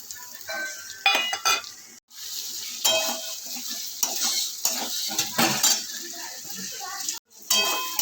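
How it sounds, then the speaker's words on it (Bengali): Onion frying in a pan with chopped tomato, chili and spices added, spoon stirring and scraping in bursts over a steady sizzle, with brief metal clinks and short pauses in a home kitchen. "এবার পেঁয়াজটা ভাজা হলে এর মধ্যে সব এক একে টমেটো কুচি, লঙ্কা কুচি, মশলা সব দিয়ে দেবো"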